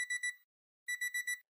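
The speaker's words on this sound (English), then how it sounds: "I did hear the buzzer" An electronic buzzer sounds in two bursts of rapid pulsing beeps, separated by a short silence, clear and fairly close.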